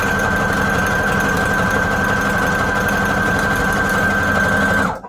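A Brother Project Runway Limited Edition CE1125 sewing machine stitching paper strips, running at a steady, close, loud motor whir with rapid needle chatter, then stopping abruptly just before the end.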